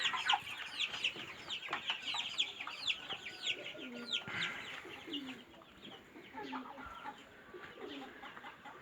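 Chickens clucking in a backyard pen enclosure, with many overlapping clucks and short calls close by, steady and busy throughout, lower grunting clucks mixed in, with no talking.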